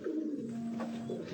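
Rooftop pigeons coo softly while being handled, a low rolling coo close by that lasts about a second over quiet background.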